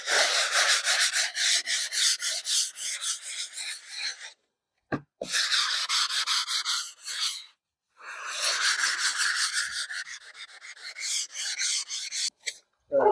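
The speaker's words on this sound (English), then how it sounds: "So I'm gonna start sanding here." Sandpaper rasps rhythmically against an epoxy table surface in quick back-and-forth strokes, close and loud, in three bursts separated by short pauses.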